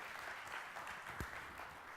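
A church congregation applauds during a sermon, a faint, distant patter of many hands clapping, even and sustained, with one dull knock partway through.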